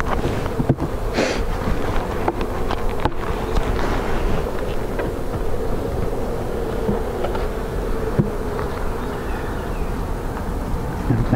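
Honey bees buzz steadily around an open hive during a beekeeping inspection, with a continuous close drone and light wind noise throughout.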